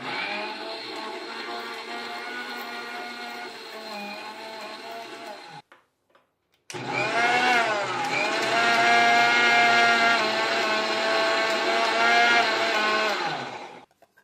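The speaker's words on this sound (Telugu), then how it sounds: "కొంచెం మిక్సీ చేసి వాటర్ యాడ్ చేద్దామా?" A mixer grinder blends mango leaves with water into a paste, running loud and steady with a whirring motor drone, briefly stopping around the middle before restarting and grinding on.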